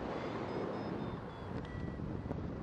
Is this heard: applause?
no